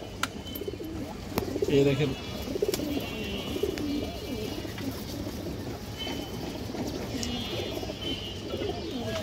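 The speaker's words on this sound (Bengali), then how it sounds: "এটা একটা নর কবুতর দর্শক" A large male pigeon of a long-flying breed coos in repeated low throaty phrases close by, over a steady noisy background while someone talks.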